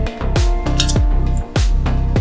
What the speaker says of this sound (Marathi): या प्रकारे झाकण मी ठेवलेलं आहे दहा मिनटासाठी